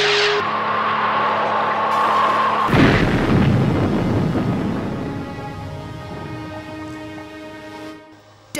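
Gunfire and a loud explosion from an episode of the Stingray puppet TV series, with a sustained blast and a long rumbling decay, along with what sounds like music or other tones in the background.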